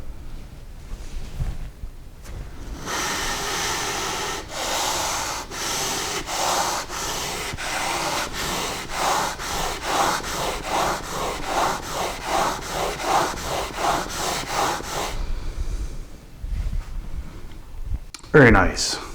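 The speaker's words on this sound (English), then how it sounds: "now I should be able to use more of the sandpaper and the sharpening should be much more efficient" Planer knife rubbed back and forth on sandpaper laid over a granite surface plate, a rhythmic series of about twenty even scraping strokes, close and loud, with quieter handling before and after.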